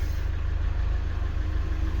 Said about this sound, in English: just put the engine on and see what happens